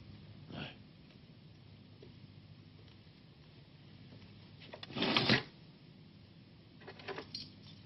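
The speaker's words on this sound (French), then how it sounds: "C'est son trousseau de clés?" A bunch of keys for a car, garage and front door jangles in brief bursts, a short rattle near the start, a louder, denser shake around the middle and a lighter jingle near the end, with quiet room tone between.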